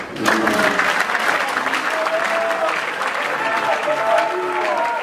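An audience applauds after a patriotic speech in the Democratic Republic of the Congo, with sustained, dense clapping from a sizable crowd, loud and steady for several seconds.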